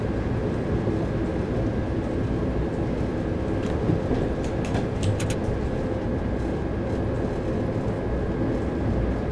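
Train running at 50 mph in Train Simulator 2017 on the South London to Brighton express route, a steady, loud rumbling drone of the moving train with faint rhythmic clicks midway, no talking.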